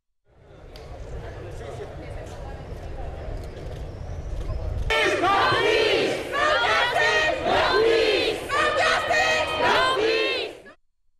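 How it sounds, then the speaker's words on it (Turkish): Thousands of protesters rally against racism and xenophobia outside the American Embassy in Madrid, a loud crowd roaring and chanting in sustained, rhythmic bursts after an opening stretch of lower rumble. "Başkent Madrid'deki Amerikan Büyükelçiliği binası önünde toplanan binlerce kişi ırkçılık ve yabancı düşmanlığı karşıtı gösteri düzenledi."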